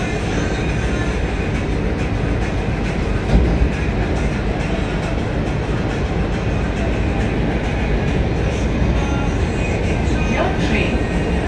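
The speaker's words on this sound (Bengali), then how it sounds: "এই ট্রেনটি শীঘ্রই বারসই জংশন স্টেশনে পৌঁছাবে।" Train running toward Barsoi Junction station, a loud, steady rumbling roar of wheels on track heard from aboard, continuous throughout with faint rattles and a voice talking underneath.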